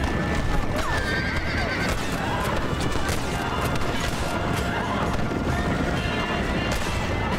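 A horse is shot and whinnies loudly amid galloping hoofbeats and chaotic gunfire in a noisy Red Dead Redemption scene.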